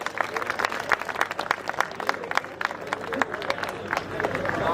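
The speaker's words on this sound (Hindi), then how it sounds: "एक बार जोर से तालियां तो बजा दो इनके लिए।" Spectators at an amateur bodybuilding competition applaud a posing athlete with brisk, dense clapping mixed with crowd murmur. The applause is lively and uneven and swells slightly toward the end.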